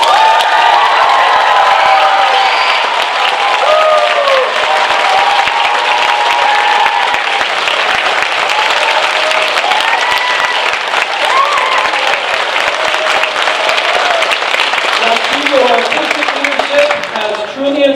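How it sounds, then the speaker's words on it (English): A large audience at a dance performance breaks into loud applause with cheers and whoops, continuous and energetic for the whole stretch, with scattered shouting voices mixed in. "give a huge round of applause to our artistic director"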